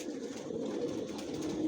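Adult racing pigeons of a long-distance Johnson line murmur and coo steadily inside a loft, a dense low warbling chorus close by with no voices.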